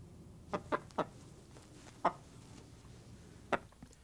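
A rooster clucks in short, separate bursts, about six sharp clucks at uneven intervals, fairly close against a quiet background.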